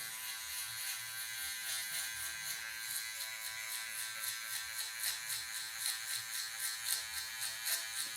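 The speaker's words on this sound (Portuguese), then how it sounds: "Vou usar aqui, ó, máquina de acabamento na parte de baixo" An electric hair trimmer buzzes steadily up close while finishing the lower part of a mohawk haircut on afro hair, with a constant high whine that pulses slightly as it moves over the hair.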